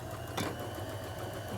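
A sewing machine runs in a short, steady whir while understitching a seam allowance down toward a pocket, with one brief click near the start.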